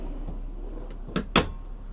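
Cabinet doors or a drawer in a 2024 Winnebago Solis pop-top camper van opening, with two close, quick wooden clunks and rattles about a second in, alone over a quiet interior hum.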